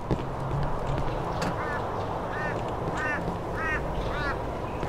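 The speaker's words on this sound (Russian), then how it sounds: "Ворона как будто угорает надо мной." A crow caws repeatedly in a short run of calls somewhere in the bleak town of the horror game Cry of Fear, heard at moderate distance over a low ambient rumble.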